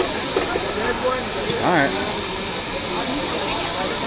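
Big Boy No. 4014 steam locomotive gives off a steady, broad hiss of steam nearby, with a brief whistle-like tonal sweep partway through and a person speaking briefly over it.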